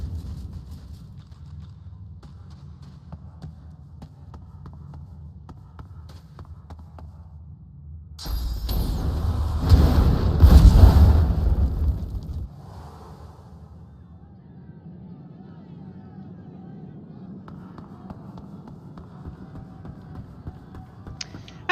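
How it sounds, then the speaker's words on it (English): Loud in-game explosion from the role-playing video game Divinity: Original Sin 2, a single broad burst that swells for about four seconds before fading back into quieter game ambience. "Explosions."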